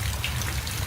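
Radio drama sound effect of falling rain, a soft continuous hiss with scattered drips over a low rumble, heard alone.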